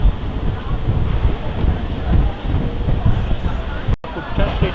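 A Mumbai local train runs on a nearly empty carriage toward Churchgate, giving a loud, steady rumble and rattle with wind noise and a brief cut near the end.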